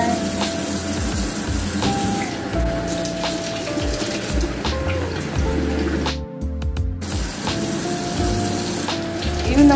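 Tap water runs steadily into a small container to dilute strong mouthwash during a home oral hygiene routine, a continuous close splashing rush with no talk.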